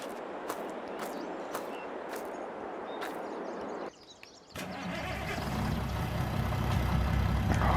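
A worn farm truck idles in Farming Simulator 22 with a steady low engine rumble. It drops away briefly near the middle, then returns louder and fuller for the rest of the stretch, with no one speaking.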